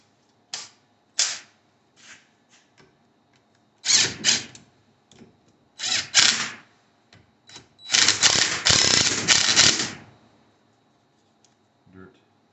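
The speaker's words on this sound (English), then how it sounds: "And I'll put my automatic wrench on it." An automatic wrench works on a front wheel bearing nut of a 1980 Triumph TR7, firing short rattling bursts and then a long buzzing run of several seconds, loud and close with quiet gaps between.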